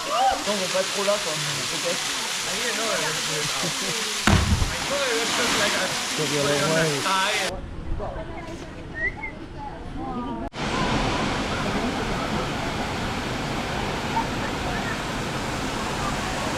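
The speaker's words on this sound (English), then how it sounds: "We're at the waterfall" A waterfall at a tourist swimming spot in the Philippines roars with a steady broadband rush throughout, while people talk nearby over the constant water noise.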